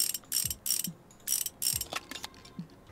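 Small nuts come off a motorcycle in the Motorcycle Mechanic Simulator 2021 game, as a series of quick ratcheting clicks in short bursts with mechanical clunks between them, close and moderately loud.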